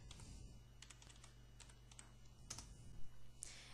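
Keys on a computer keyboard are tapped in a quiet, sparse run of clicks over a low steady hum, with no one talking.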